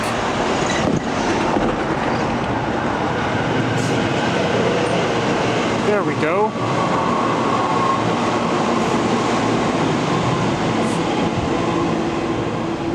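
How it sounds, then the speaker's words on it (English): A train rumbles past close by near Denver's 48th and Brighton station, wheels clattering steadily with a brief screech of metal partway through; someone speaks briefly near the start. "the train is coming"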